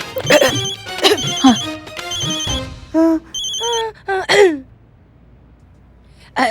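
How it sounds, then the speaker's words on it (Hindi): A mobile phone ringtone sounds in loud tonal bursts with pauses, near and clear, preceded by people talking briefly at the start. "डीएसपी सर का फोन आ रहा है।"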